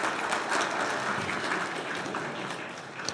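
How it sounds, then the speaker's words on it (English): An audience applauds the families, dense steady clapping filling the room at moderate level with no talk over it. "Give the families a round of applause."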